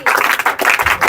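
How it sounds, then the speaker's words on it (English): A classroom audience claps for a new student, a brief burst of rapid close handclaps lasting about a second. "Please clap for her."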